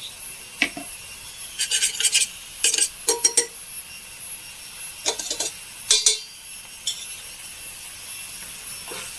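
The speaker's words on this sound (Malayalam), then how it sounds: "നന്നായി ഇളക്കി കൊടുക്കാം നെയ്യും ശർക്കരയും നാളികേരും എല്ലാം കൂടി ഒന്ന് മിക്സായി വരട്ടെ" A spoon stirs and scrapes ghee, jaggery and coconut with dried tapioca in a pan, giving short, bright metallic rasps in irregular bursts over a quiet background.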